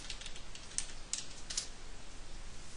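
A command is typed on a computer keyboard with a quick run of close, quiet key clicks in uneven bursts over a faint hiss.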